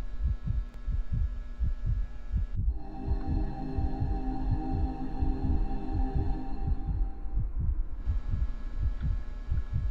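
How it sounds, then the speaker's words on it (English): A steady, deep heartbeat thuds rhythmically in the horror video game Enter The Backroom, continuous and close under a low droning hum that shifts partway through. "Why doesn't the heartbeat go away?"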